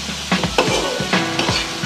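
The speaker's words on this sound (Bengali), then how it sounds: "মশলা কষাতে কষাতে দেখবেন মশলার গা থেকে তেল ছেড়ে গেছে" Spices sauté in oil in a pan for a Bengali fish curry. A steady loud sizzle is broken by repeated stirring scrapes of a utensil against the pan, close up and with no talking.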